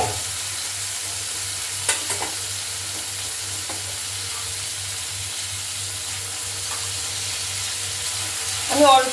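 A spoon stirs a spice tempering for matar dal with pumpkin greens in a pan on the stove, giving a quiet, steady sizzle with a few soft scrapes and a faint low hum underneath.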